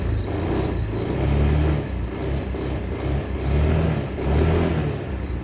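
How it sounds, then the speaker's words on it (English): A Honda Vision / Dio NSC 110 scooter engine revs repeatedly up and down, a close, steady mid-pitched motor swelling in several throttle blips with no talk over it. "somebody revving a scooter in their review."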